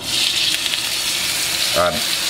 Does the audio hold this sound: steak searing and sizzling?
yes